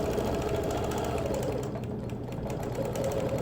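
Longarm quilting machine stitching custom ruler work by hand on a quilt, a fast steady mechanical chatter of rapid needle strokes with an even motor hum, close and continuous with no talking.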